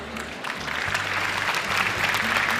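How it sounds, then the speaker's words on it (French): A French game show audience applauds a contestant with dense, steady clapping that stays fairly loud and even for the whole stretch, with no talking over it. "On l'applaudit."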